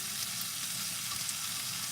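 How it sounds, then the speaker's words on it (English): Sausage and black-eyed peas stir-frying in a pan give a steady, dense sizzle that runs evenly throughout without pause, close and continuous, with no voices over it. "So, see how it's stir frying up."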